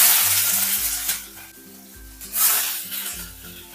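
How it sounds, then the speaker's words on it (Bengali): Prawns fry in well-heated mustard oil, a steady loud sizzle and crackle with repeated scraping stirs of a spatula against the pan, continuing alone without any talk. "চিংড়ি মাছগুলোকে লাল লাল করে ভেজে নেব"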